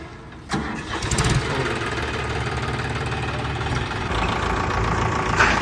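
A John Deere 5105 tractor engine cranks and catches, then settles into a loud, steady diesel rumble close by.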